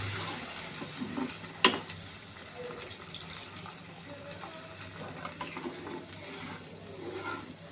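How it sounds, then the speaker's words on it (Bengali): Filtered water poured from a bottle into flour dough makes a soft, steady trickle that runs low and close, with a small clink near the start and faint room noise behind. "আমি মেখে ফিল্টারের জলটাই দিই, কলের কোনো জল দিই না, যার জন্য বোতল দিয়ে ঢেলে দিচ্ছি।"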